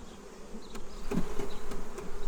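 Honey bees buzzing inside an open six-frame beehive, a dense, steady close hum that grows slightly louder and throbs evenly throughout.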